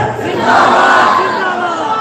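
A large crowd at a religious conference roars a slogan in unison, loud and sustained, a dense wall of voices filling the space.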